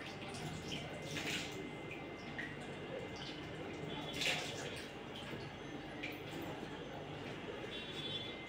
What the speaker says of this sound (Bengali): আমি প্রথমে আলুগুলো ধুয়ে নিই